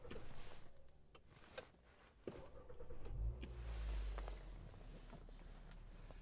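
A 2013 Volkswagen Jetta 2.5 five-cylinder starts by push button: faint cabin clicks and ticks, then the engine cranks and catches around the midpoint, settling into a low steady idle.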